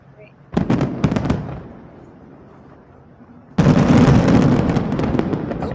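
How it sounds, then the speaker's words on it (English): Fireworks bursting on New Year's Eve: a rapid cluster of sharp cracks and pops, then a short lull of rumbling echo before a dense, loud barrage of continuous crackling explosions. "I love fireworks"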